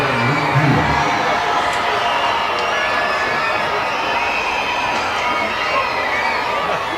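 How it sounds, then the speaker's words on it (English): A large crowd at a baseball game in Regency Furniture Stadium makes a loud, steady murmur of voices, cheers and children's shouts that fills the background without letup. "And big crowds on hand here at Regency Furniture Stadium."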